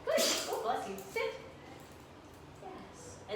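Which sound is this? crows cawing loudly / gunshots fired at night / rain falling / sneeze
sneeze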